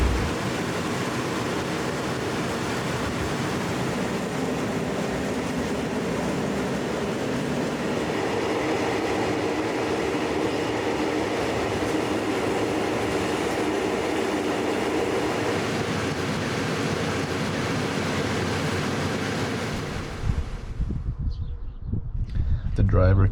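Steady rumbling roar from inside a moving freight train, the rolling noise continuous and loud for most of the stretch before dropping away near the end, with voices talking faintly under it.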